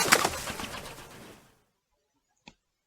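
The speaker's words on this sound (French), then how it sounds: "L'oiseau vint se poser." A bird in an animated storybook coos and flaps briefly at the start of the clip. The sound fades within about a second and a half and is followed by silence and one short faint click.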